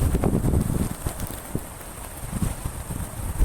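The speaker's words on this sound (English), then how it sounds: "It's so windy." Strong wind gusting at the William Wallace Monument in Stirling, Scotland, during a blizzard, a steady low roar with buffeting against the microphone throughout.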